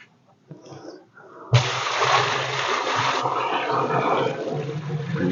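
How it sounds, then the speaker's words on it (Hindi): Water pours into a bucket of ground apples for traditional homemade apple cider vinegar, a loud, steady splashing gush that starts abruptly after a quiet moment and keeps rushing for several seconds. "इसमें हम पानी डाल देंगे"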